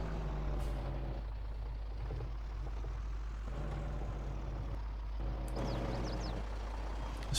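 A Kenworth truck in Farming Simulator 22 rumbles slowly over rough, bumpy ground, its engine droning steadily and loudly, with hissing air-brake releases and rattles breaking through now and then.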